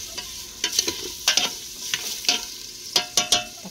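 Sautéed chayote with chicken liver and gizzard stirred in a pan: a quiet frying sizzle broken by a series of sharp scraping and clacking utensil strokes, close up, in uneven bursts.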